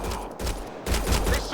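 Gunfire in the sci-fi shooter game Mass Effect Andromeda, a dense burst of loud, rapid shots with a brief lull, then more heavy bangs.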